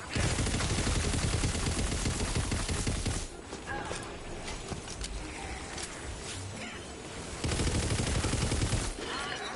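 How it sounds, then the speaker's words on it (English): Bombs from a Wyvern Bomber explode in the fantasy shooter Tiny Tina's Wonderlands, a dense roaring barrage of rapid blasts that drops off midway and then returns loud. "Here come the bombs."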